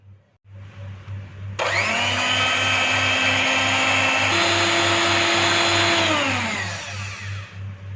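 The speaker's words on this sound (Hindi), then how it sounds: "2-3 मिनट तक इसको हाई स्पीड पे बीट कर लेंगे।" An electric mixer beating four eggs at high speed in a bowl, switching on with a loud whining motor, holding a steady high drone, shifting pitch once midway, then winding down, over a constant low hum.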